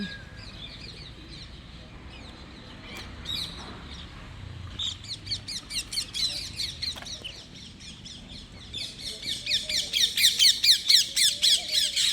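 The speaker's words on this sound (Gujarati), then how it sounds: "કેટલા બધા પક્ષીઓ છે દાણા ખાઈ રહ્યા છે પોપટ ને ચક્કીઓ" Parrots and sparrows feed on grain at a bird house, filling the air with shrill, repeated squawks and rapid chirping that build into dense, loud bursts toward the end.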